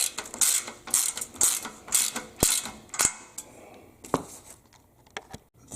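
A ratchet wrench tightens assembly nuts on a Nitrofit Limber Pro stretch machine, giving bursts of quick metallic clicking that repeat in an uneven rhythm, close and fairly quiet, with a few sharper knocks between them.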